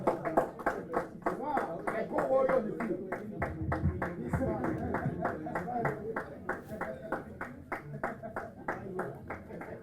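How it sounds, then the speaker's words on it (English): Audience applause at a university graduation ceremony in Dubai, a steady, rhythmic round of clapping from a crowd that lasts throughout, with a voice speaking over it early on. "Let's have a big round of applause."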